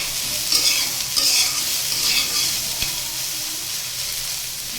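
Vegetables fry in a pan with a loud, steady sizzle that runs unbroken throughout, with a single brief knock partway through.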